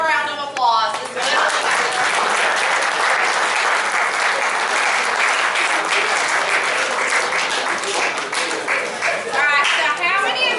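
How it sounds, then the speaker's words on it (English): Sustained audience applause at a sexual violence prevention training seminar, loud and steady for about ten seconds, with scattered voices and a few whoops mixed into the dense clapping. "Give them a round of applause."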